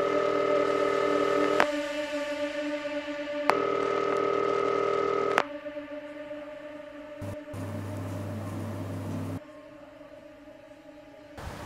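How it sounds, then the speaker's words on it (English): A telephone rings in repeated long electronic tones, loud and steady, followed by quieter tonal beeps, with no voices over it. "Are you going to answer that phone?"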